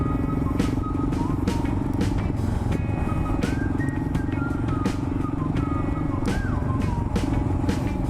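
Motorcycle riding off-road on a backcountry discovery route, engine droning steadily up close with shifting pitch and gear changes, wind and rough-ground rattle throughout.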